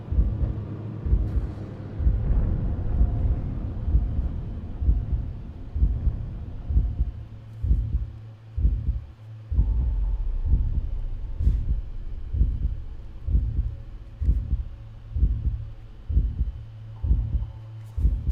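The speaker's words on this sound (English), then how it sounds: "The heart beating." A heartbeat in the Korean horror video game Novena Diabolos thumps low and loud in a steady repeating double-beat rhythm over a dark ambient hum, with no speech.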